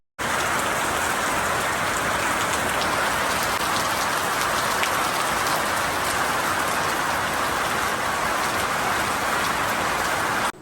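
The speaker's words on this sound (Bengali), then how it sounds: "বাইরে শুরু হয়েছে মুষলধারে বৃষ্টি" Heavy rain pours outside a house in a dense, unbroken roar, steady and loud from start to finish with no voices.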